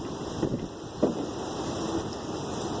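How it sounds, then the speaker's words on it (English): Gusty wind rushing over the microphone, a continuous low roar with a couple of sharper buffets. "It's getting a little windy"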